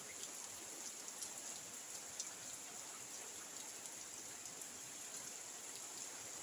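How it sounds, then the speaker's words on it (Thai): Evening rain falling steadily outdoors, a soft, even, continuous patter with a constant high hiss and no pauses or talking. "มันฝนตก"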